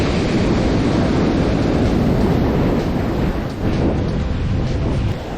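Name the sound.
ocean waves on a Long Island beach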